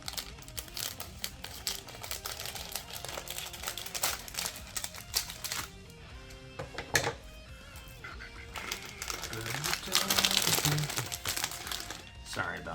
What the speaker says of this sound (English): I try not to talk when I'm doing this because it's so crinkly